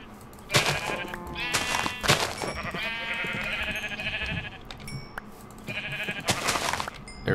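Sheep bleat repeatedly in a video game, with several clear, fairly loud bleats spaced unevenly over a steady background of game sounds.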